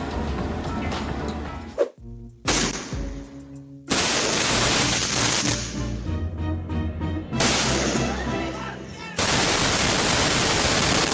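Rapid, dense bursts of explosions crackle and pop in rolling volleys, loud and close, like a barrage of fireworks going off all at once.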